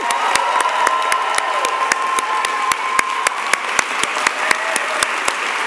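Loud, steady applause with scattered cheers fills a commencement hall as the Oregon Executive MBA Class of 2023 is celebrated; sharp individual claps stand out over a dense crowd wash throughout.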